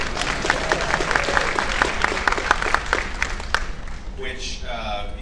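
A horror convention panel audience claps in a burst of scattered, fairly loud applause that fades out after about four seconds, and a voice speaks close by as it ends.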